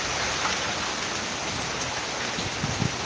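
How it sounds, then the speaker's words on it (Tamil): Heavy rain falls at night in a steady, dense hiss that fills the space, loud and close, with a few faint knocks near the end and no voices. "சரியான மழை."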